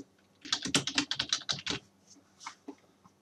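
Rapid typing on a computer keyboard, with a quick, close run of crisp key clicks for about a second and a half, then a few isolated taps in a quiet room.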